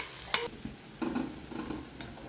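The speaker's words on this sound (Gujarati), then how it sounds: "મરચાં એકદમ સતલાઈ ગયા છે." Green chilies and ginger paste sauté in oil with asafoetida, bay leaf, dried red chilies and turmeric, heard as a faint soft sizzle with a sharp clink early on and brief stirring scrapes.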